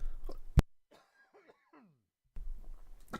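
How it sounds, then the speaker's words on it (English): A person lets out a single sharp cough, followed by a few faint throaty sounds, with quiet gaps before background noise returns. "Coughing a lung out."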